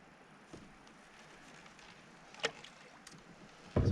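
Old Town canoe paddled on a Scottish loch, quiet lapping water and soft paddle dips with a few light knocks against the hull, ending in a louder thump.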